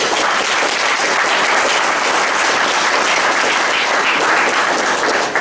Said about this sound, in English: Hearty, loud of applause.